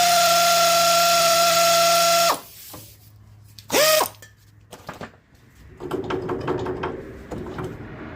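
Hardware comes off a car's CV axle with a ratchet: a loud power-tool whine runs for a couple of seconds, then a brief high whir and a burst of rapid clicking and metallic clatter nearby.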